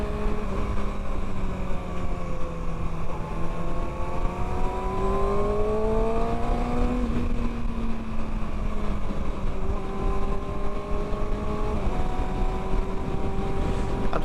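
A Kawasaki Ninja sport motorcycle with a quick shifter revs up through the gears while riding, engine pitch climbing repeatedly and dropping at each shift, loud and steady under constant wind rush.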